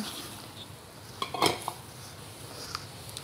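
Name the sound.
mixing chapli kabab ingredients in a bowl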